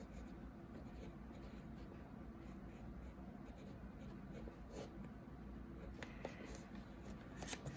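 A pen or pencil writes small numbers by hand on graph paper, producing faint, steady scratching strokes close up, with a few slightly sharper taps near the end.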